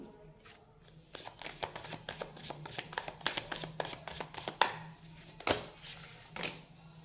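Tarot cards shuffled by hand, a quiet, close series of quick papery riffles and soft slaps in an irregular rhythm, with a few louder snaps near the end.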